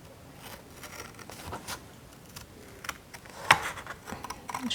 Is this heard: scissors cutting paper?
yes